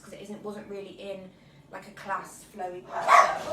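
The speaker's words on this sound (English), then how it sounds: "That's a dog's." A dog barks indoors while a person talks over an exercise session on shoulder issues; sharp, near barks come late and rise above the steady speech.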